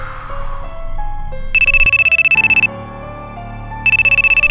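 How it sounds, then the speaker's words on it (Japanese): A phone ringing in Minecraft, a loud rapid trilling electronic ring in two bursts over a stepping synth melody, with no voices. "また電話が来た。"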